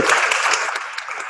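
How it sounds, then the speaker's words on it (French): Audience at a heritage conference applauding the panelists: a short burst of steady, moderately loud clapping that tapers slightly toward the end. "On applaudit nos panélistes"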